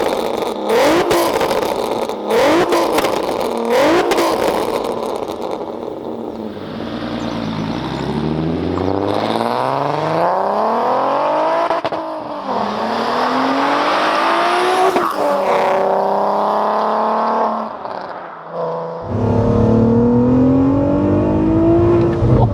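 A 406 bhp supercharged MK4 VW Golf R32 engine revs hard while driving. It climbs through repeated rising pulls with supercharger whine and drops between gear changes, loud and close, with no talking.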